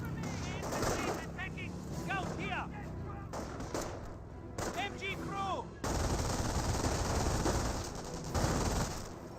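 An MG42 machine gun fires in the Company of Heroes strategy game: sustained rattling bursts amid other battle gunfire, with a commentator talking over it and heavier firing in the later half.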